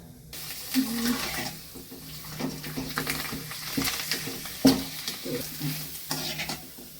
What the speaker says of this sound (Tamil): நல்லா பொரிச்சு எடுத்துக்கலாங்கம்மா அப்பளத்தை